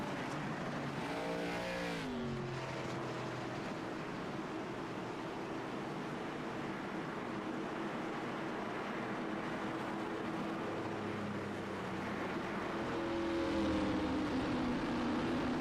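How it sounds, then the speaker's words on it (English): ARCA race cars at the Nashville Fairgrounds roar off the corner on a restart, engines revving hard and climbing in pitch, a loud sustained pack of motors that swells again near the end. "the 38 fires them off the corner as he gets a big jump"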